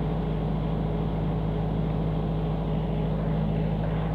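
A Yanmar Tsuzumi 20 kVA diesel genset, Japanese-made, runs at steady speed with a loud, constant low engine drone and even mechanical hum, no voices.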